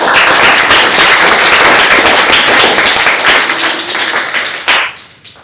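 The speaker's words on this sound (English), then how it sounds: "Let's give her another round of applause." Audience at a Toastmasters club meeting gives a dense, loud burst of clapping that holds steady for several seconds, then thins into a few scattered claps before stopping.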